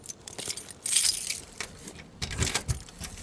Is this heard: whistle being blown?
no